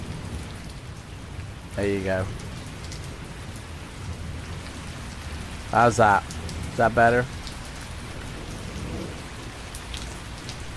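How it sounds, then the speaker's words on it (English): Rain hisses steadily throughout a stormy night, with a low rumble of thunder underneath, while someone speaks a few short phrases close to the microphone. "The storm is louder"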